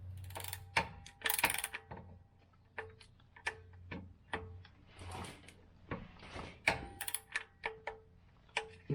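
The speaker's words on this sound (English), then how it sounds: "let me move this wrench around" A wrench ratchets on the oil filter of a Toyota Sienna, making faint, close, irregular clicks and small metallic knocks with brief pauses.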